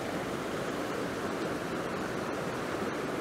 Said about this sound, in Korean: 물이 정말 맑은데 저 위에서부터 이렇게 졸졸졸졸 내려와서 아래까지 이어집니다.